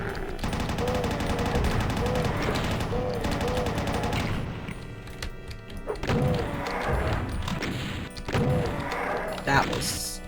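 Bullet gunfire in Doom II rattles in rapid bursts with heavy impact thuds and crashes, loud and busy throughout, with a few short pauses between volleys.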